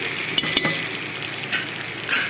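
Tomatoes fry in oil with fenugreek and cumin powder for gongura chicken curry, a close, steady sizzle with several quick stirring scrapes and clinks.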